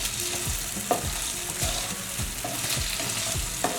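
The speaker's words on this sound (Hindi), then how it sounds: "हमने इस तरह से इसको हिलाते हुए इसको पका लेना है।" A breakfast mixture sizzles in a pan while a utensil stirs it, giving a busy frying crackle with repeated scraping strokes and a few sharp knocks against the pan; no one speaks.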